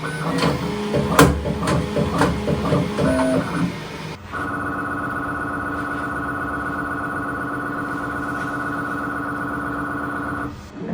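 A Bambu P1S 3D printer whirs loudly with a steady, droning fan hum and faint mechanical clatter, continuous and close, after a brief stretch of busier rattling motor sounds.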